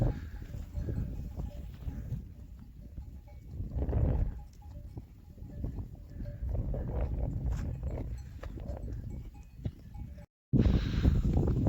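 A flock of sheep with lambs grazes on a highland pasture, giving a steady close rustle and chewing through the grass with scattered faint bleats and a bell or two, continuous throughout apart from a brief cut near the end.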